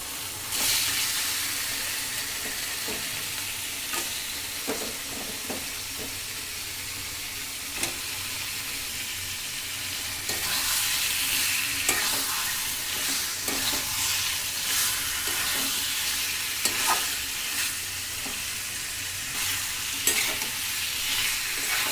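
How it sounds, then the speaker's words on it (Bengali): Chicken pieces sizzle and fry in spiced oil for a village-style curry, with a steady hiss throughout and the scrape of a stirring spoon clicking against the pan at irregular intervals, louder after the midpoint. "এবারে আমরা মাংসটাকে এখানে অ্যাড করে কিছুক্ষণ কষিয়ে নিব মাংসটাকে।"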